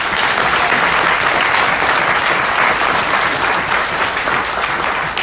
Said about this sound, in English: A big round of applause for our panel today.